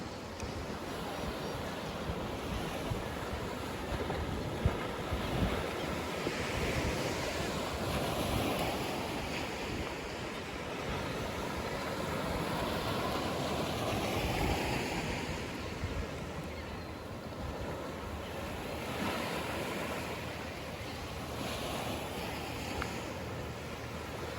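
Ocean surf washing onto a Sanibel Island beach under steady wind gusts and microphone buffeting, a continuous loud roar with gentle swells, with no talk.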